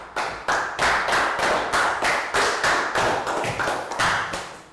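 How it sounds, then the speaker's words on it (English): Hands clapping in a steady, even rhythm, about a dozen loud claps close by, with no voices. "Round of applause for Pak Boom."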